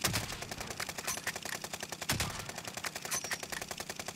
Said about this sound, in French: Il se fait tirer dessus par la hauteur.